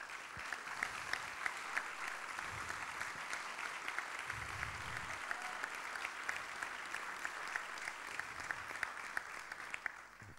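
Sustained audience applause at a book launch for 'Catarina e a Beleza de Matar Fascistas', dense steady clapping from a room full of people, even in level for the whole stretch with no voices over it.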